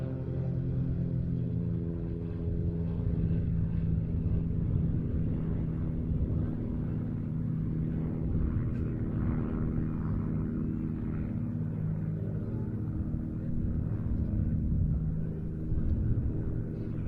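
Aircraft flying at the Duxford air show, a continuous distant propeller rumble and drone that holds fairly steady throughout, with no voices.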